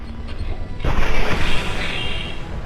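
Crates of unstable materials blow up in the Mass Effect 2 video game: a sudden, loud blast cuts in after a quiet stretch of ambience, then trails off into a sustained rumble and crackling debris, with no voices.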